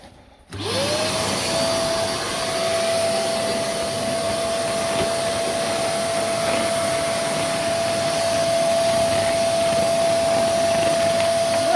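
A Karcher WD 2 Plus wet-and-dry vacuum cleaner, just repaired, starts up and runs as a steady loud motor whine with airflow rush, holding an even pitch for about eleven seconds with no talking.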